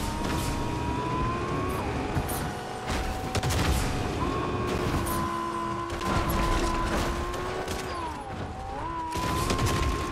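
Rapid bursts of gunfire in the video game Fortnite crackle over a steady, shifting vehicle engine drone, with repeated sharp shots scattered across the stretch at a moderate level.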